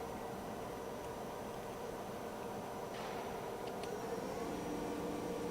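The spindle of a ROMI M17 CNC turning center runs at about 1,800 RPM with a steady, quiet whir and hum that holds even throughout, with no talking.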